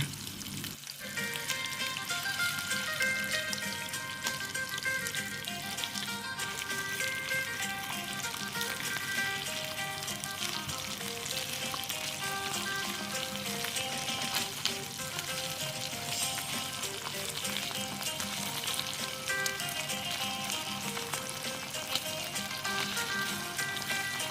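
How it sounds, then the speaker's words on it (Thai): Catfish frying in a pan of oil, a dense continuous crackling sizzle that holds steady and loud throughout, close up and with no talking. "เอาลงกระทะแล้ว ทอดให้ แห้งๆเกียมๆสักก้อนเนาะค่ะ"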